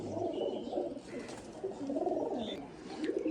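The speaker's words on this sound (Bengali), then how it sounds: "মাশাআল্লাহ, অনেক সুন্দর কবুতর।" Pigeons coo softly and repeatedly in low, rolling calls from close by, in a continuous murmur with no talking.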